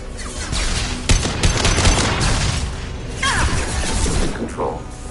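A turret in the video game Mass Effect 2 lets off a loud, dense burst of rapid gunfire mixed with mechanical clatter and booming combat noise, continuing throughout with a voice briefly heard underneath.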